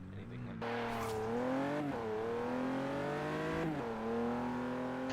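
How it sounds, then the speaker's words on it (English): A Jaguar F-Pace S SUV with a twin-turbo V6, driven in a racing video game, accelerates hard, its engine note climbing steadily through several gear changes with brief dips between shifts, loud and close throughout. "This Jaguar F-Pace S is powered by a twin-turbo V6."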